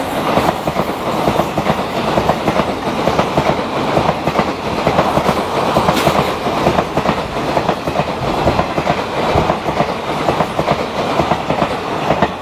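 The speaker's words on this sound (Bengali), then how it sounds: "এটা ছিল আসানসোল দীঘা এক্সপ্রেস" The Asansol–Digha Express thunders past close by, with a loud continuous rumble and rapid clickety-clack of wheels over rail joints sustained throughout.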